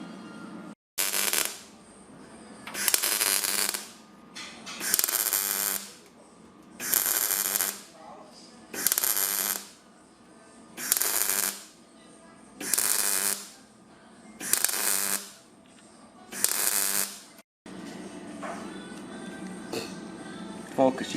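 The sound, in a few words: welder making stitch welds on metal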